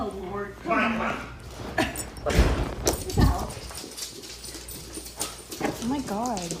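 A dog whimpers and gives short barks amid a chaotic scene outside after a staged car crash, with excited people talking loudly over and around the dog's sounds.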